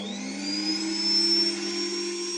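A Fakir Intra 800 W vacuum cleaner runs on its minimum setting over thick carpet, with a steady, close whine and motor hum. Its pitch rises slightly and then holds level.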